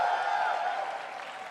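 Applause from a large crowd at PAX Prime, a gaming convention, rising as a steady dense wash of clapping and cheering that eases off slightly toward the end.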